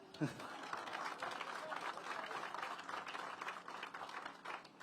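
Audience at a community center groundbreaking giving a round of applause, steady dense clapping heard fairly faint and distant throughout.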